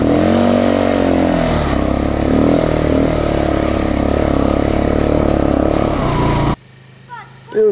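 A Kayo 180 quad bike engine revs loudly and steadily up close, voices over it, then cuts out abruptly near the end.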